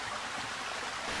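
A small stream flows steadily through a wooded run with a little deeper pool, giving a continuous soft, close wash of water with no voices.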